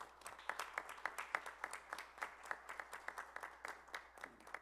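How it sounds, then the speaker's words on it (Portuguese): Faint, distant rhythmic clapping fills a parliamentary chamber during a session honouring physical education professionals, steady and even with no voices over it. "uma salva de palmas para todos os profissionais de educação física de nível Brasil"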